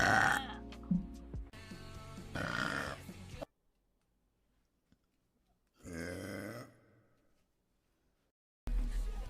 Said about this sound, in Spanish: Ahora viene el eructo.